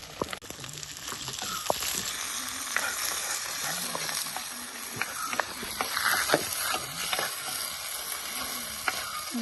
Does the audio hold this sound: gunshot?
no